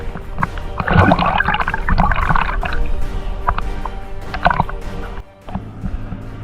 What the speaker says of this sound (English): Now I'm going to get into my small dinghy and let's go.